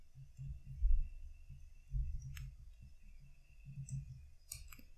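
A computer mouse clicks a few times at a desk during game development work, sharp isolated clicks over a low background hum, with no talk.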